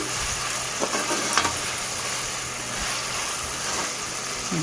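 Chicken liver frying in a pan with chilli, a steady dense sizzle throughout, and the soft scrape of a stirring spoon now and then.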